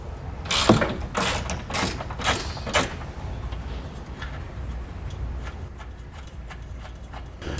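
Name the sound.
ratchet with 18mm socket removing bumper flange nut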